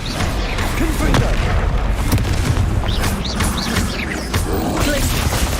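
Confringo explosion spells booming repeatedly in Hogwarts Legacy combat, with several loud blasts and crackling magical effects over a dense battle din, sharp hits near 1 and 2 seconds.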